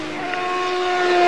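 A Tyrrell 025 Formula 1 car with a 650 hp engine on track at Donington, its high-pitched engine note steady and loud, building slightly over a brief moment.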